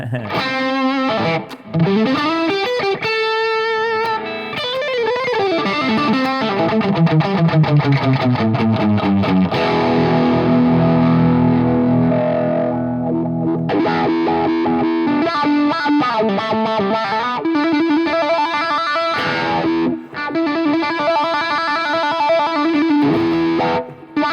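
Electric guitar played through a Boss MS3 multi-effects unit on a classic channel, with crunchy overdriven gain and a touch of reverb. A continuous, loud run of chords and single-note lines lasts the whole stretch, with no talking.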